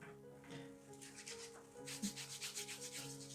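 Pre-shave oil being rubbed into beard whiskers, a soft close brushing scratch that turns into quicker repeated strokes in the second half, quiet throughout.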